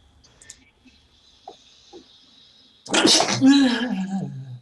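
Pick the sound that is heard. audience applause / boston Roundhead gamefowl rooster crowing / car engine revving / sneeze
sneeze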